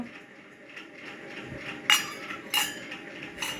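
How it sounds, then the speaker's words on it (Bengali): During washing up, dishes and cutlery give three sharp, separate clinks over a quiet background of faint clatter. "সারাক্ষণ কাজকর্ম করে রান্না করে আবার বাসন মাজা হয়ে গেল"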